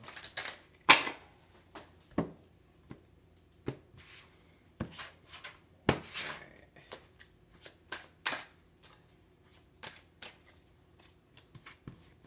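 A deck of cards is shuffled repeatedly at close range, with quick riffling bursts and soft slaps recurring irregularly over a quiet background, no talking.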